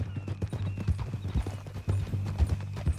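Horse hooves clip-clop in a steady walking rhythm in the Red Dead Redemption 2 video game, close and distinct, with a faint whinny mixed in.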